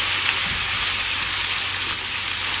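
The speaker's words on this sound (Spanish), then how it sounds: "Ahora voy a agregar la carne." Steady, loud sizzling and crackling of meat frying in a hot pan, a continuous hiss with no talk.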